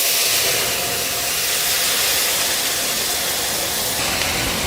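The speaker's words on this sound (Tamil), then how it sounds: "சிம்னி ஆன் பண்ணால் புர்ருன்னு சத்தம் வருது இல்லையா" A kitchen chimney exhaust hood runs over the stove while dal is being cooked, a loud, steady broadband whoosh of rushing air with a low rumble and no break.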